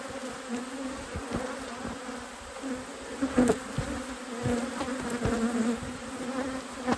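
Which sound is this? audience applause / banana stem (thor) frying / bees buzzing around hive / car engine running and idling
bees buzzing around hive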